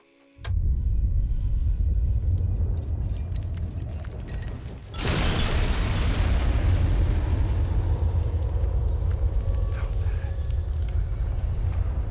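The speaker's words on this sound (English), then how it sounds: "I almost wish there was another nuke we could detonate" A nuclear bomb detonates in the video game Fallout 3: a low, sustained roar and rumble that swells abruptly to a loud, broad blast midway and then keeps churning on as a dense, continuous boom.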